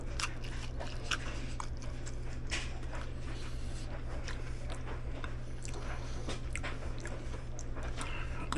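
Teeth bite and chew a crunchy keto pizza built on a Sriracha ranch low-carb tortilla shell, giving a steady run of small, close crackling crunches over a low background hum.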